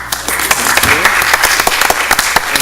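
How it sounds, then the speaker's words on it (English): Audience applause at a school board meeting, a loud, steady patter of many hands clapping close by, with a voice speaking over it. "Let's give him a round of applause."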